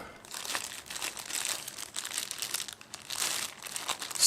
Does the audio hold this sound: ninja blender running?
no